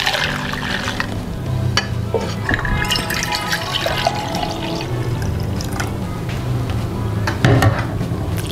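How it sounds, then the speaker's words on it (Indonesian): Liquid strained from grated cassava is poured into a measuring container, a continuous close trickle with splashes and clinks of the vessel. "Aku mau ukur air singkongnya ini ada berapa banyak."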